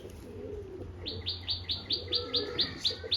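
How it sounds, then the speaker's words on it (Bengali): Pigeons kept in a loft at a tournament-winning pigeon keeper's house in Barasat, heard as a steady run of about eight rhythmic, high calls that begin after a second over a low background hum. "এই সব ক্রুশে আছে পায়রা"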